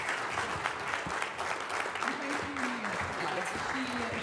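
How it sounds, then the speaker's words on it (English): Steady applause from a crowd at a broadcasting conference, continuous clapping throughout with a voice speaking faintly underneath. "We'll give a big round of applause to Lion Boy."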